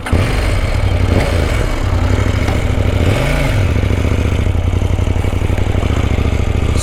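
A KTM Duke 790 motorcycle in sport mode, ridden on an Indian road, gives a loud, close, steady engine drone with one quick rev that rises and falls midway.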